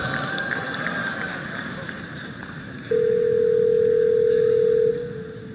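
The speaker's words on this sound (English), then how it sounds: "the Google Assistant actually calling a real salon to schedule the appointment for you" A steady electronic tone sounds for about two seconds, a phone ringing tone as an automated assistant calls a hair salon, over a background of faint room noise.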